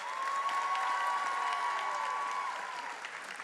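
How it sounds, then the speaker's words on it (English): Crowd at a student debt relief event applauds Congresswoman Lisa Blunt Rochester, a steady, full wash of clapping throughout that fades slightly at the end. "Please give a round of applause for Congresswoman Lisa Blunt Rochester."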